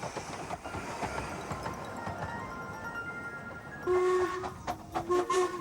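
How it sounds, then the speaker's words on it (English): A miniature-gauge train passes through Dymchurch station, a steady rolling rumble with clicking wheels, then a horn or whistle sounding in bursts near the end. "It provides a pleasant background for trains passing through."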